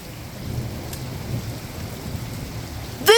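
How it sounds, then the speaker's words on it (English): A powerful supercell thunderstorm with rain in Richmond Heights, steady heavy rainfall hissing with low thunder rumbling underneath, close and continuous, ending on a brief sharp sound. "This is the most powerful thunderstorm that we had this year in Richmond Heights."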